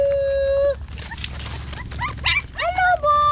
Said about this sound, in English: Oh, they're crying.